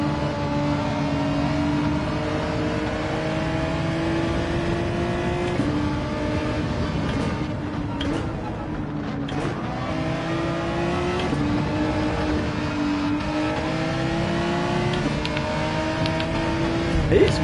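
In a Gran Turismo 7 daily race, race car engines whine and drone steadily, with pitch rising and falling through gear changes and close cars passing by, while a voice talks over the engines.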